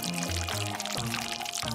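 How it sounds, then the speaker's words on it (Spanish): Water pours in a steady, close stream into a mold, its pitch stepping upward as the container fills. There are no voices over the pour. "Ahora agrega agua."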